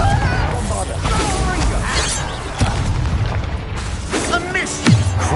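Explosive spell blasts from a wizarding video game set at Hawksworth, heavy booms and bursts rolling through busy battle noise, with a sharp hit near the end and voices shouting spell names over the din.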